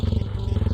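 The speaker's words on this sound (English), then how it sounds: "listen to that beast, man. It sounds like a gasoline engine" Gasoline motorcycle engine in a modded Fallout game, a loud, steady low rumble that pulses rhythmically throughout a short stretch, with no talk over it.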